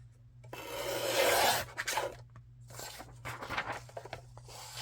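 A paper trimmer slicing words out of a pre-made journal page, giving a close rasping, scraping glide that swells then trails into a few shorter scratchy strokes, heard alone.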